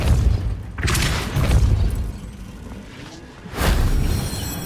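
The Confringo fire spell explodes in Hogwarts Legacy, giving heavy booming blasts with rumbling thuds, one burst early and another near the end, loud and close.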